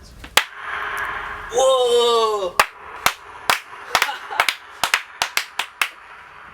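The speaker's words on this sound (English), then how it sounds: "now clap your hands" Hand claps with a reverb effect setting at a cymbal factory: sharp, separate claps with echoing tails, first single, then a quick irregular series; a voice exclaims in amazement partway through.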